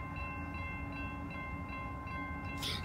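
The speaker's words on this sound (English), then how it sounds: "it's a train" BNSF freight train running on the CSX railroad, a steady low rumble and rail noise throughout with a brief brighter burst near the end, heard from trackside at moderate distance.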